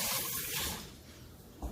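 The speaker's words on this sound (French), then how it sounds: "On va les rincer." Tap water runs steadily into a kitchen sink while utensils used for whipped-cream cake decorating are rinsed, a close broadband splashing that eases off slightly before a brief clunk at the end.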